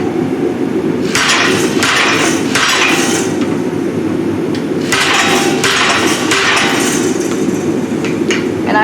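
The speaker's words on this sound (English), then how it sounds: "Number 2 with the treadle hammer." Treadle hammer striking hot iron at a forge, forming a radial design: sharp metallic blows arrive in clustered bursts at close range, with pauses between groups and steady workshop background noise throughout.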